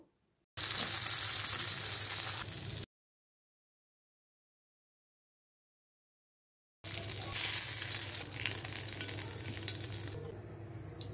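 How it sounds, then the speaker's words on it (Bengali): Singi fish frying in hot oil in a pan, a loud, even sizzle heard in two stretches separated by a silent gap, fading slightly toward the end. "মাছ ভাজি হয়ে গেলে মাছটাকে আমি আরেকবার উল্টিয়ে দিব।"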